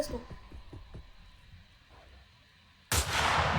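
Sniper rifle shots in the Roblox western game Westbound: a run of quick sharp reports in the first second, fainter thumps after, then a loud broadband burst near the end, with faint background game noise.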